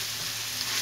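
Sliced dry onion sizzling as it hits minced meat frying in a pan for a mushroom and mince sauté, a steady, close, even crackle with no talk.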